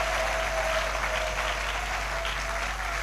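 Congregation at a French-speaking church service applauds loudly, a steady, dense sustained clapping throughout with a faint hum underneath.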